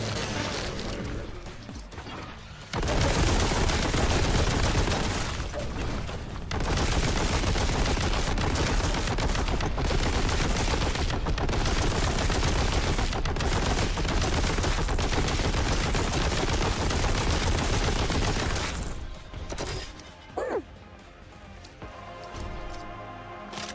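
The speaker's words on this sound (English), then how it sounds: "Oh, they are shooting back." Enemies fire back in the video game Boltgun 2, with dense, continuous game gunfire and crashing impacts running loud for about fifteen seconds, then breaking off into quieter, scattered sounds near the end.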